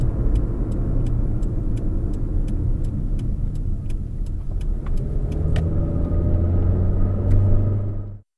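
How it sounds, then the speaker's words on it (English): Car driving on an open road as rendered by a TAG Systems TS4000 driver education simulator, a steady, loud engine and road rumble that holds evenly throughout before cutting off abruptly at the end. "Driving on the open road."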